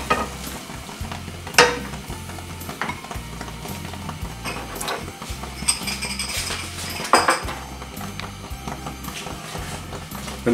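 Cooking pans are swapped on a stove while cabbage curry is cooked, with metal clanks and scraping of cookware over a constant low hum and faint sizzling, the sharpest bangs close and loud.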